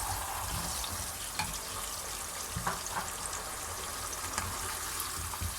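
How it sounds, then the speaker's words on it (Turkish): Fried meatballs sizzle and bubble steadily in sauce in a pan, with occasional soft clinks and stirring noises. "Şimdi bu sosun içine kızartmış olduğum köftelerimi atacağım"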